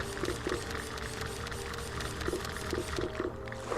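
Water being mined in the video game Stellar Overload, a steady watery pouring, trickling sound running throughout with faint rhythmic game tones beneath.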